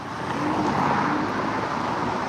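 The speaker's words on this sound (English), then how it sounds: "oh, nice car. Very loud," A loud orange car roars past on a city street, a broad, steady engine and road rush filling the whole moment without any voices.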